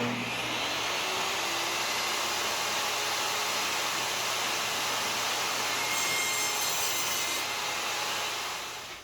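A wooden tenon is cut on a saw with the workpiece held against a miter gauge, producing a loud, steady, continuous whine of blade through wood that holds evenly for several seconds before tapering off at the end.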